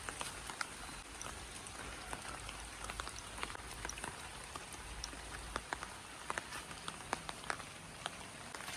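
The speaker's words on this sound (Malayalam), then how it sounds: "കട്ടിയുള്ള മഴയല്ല ഒരുമാതിരി മഴ" Light rain patters softly and steadily, scattered drops ticking nearby over a quiet, even hiss.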